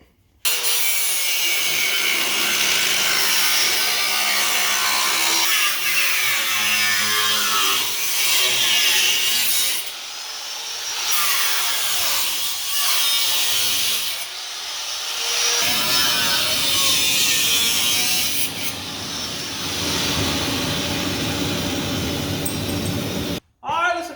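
A cutoff wheel grinds through the radiator support of a 1940 Chevy coupe's front clip: loud, continuous, close-up abrasive whine with brief pauses and dips, and a voice breaks in at times.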